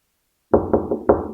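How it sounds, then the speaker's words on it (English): Sharp knocking on a bedroom door: four firm raps in a quick uneven sequence after a moment of silence, close and loud. "A sharp rapping at his door woke him with a start"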